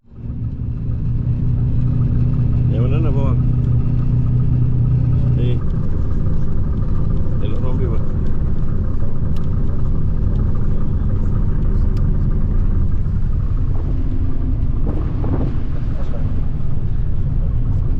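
A new tour bus near the Giza pyramids gives off a loud, steady low engine rumble that fills the whole stretch, with a few changes in the drone along the way and voices talking over it.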